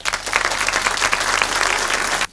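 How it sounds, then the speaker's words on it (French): Audience applause at a Walloon cabaret show, a dense, steady wave of clapping from a crowd that holds loud and even for about two seconds and then stops abruptly. "que je vous demanderai d'applaudir"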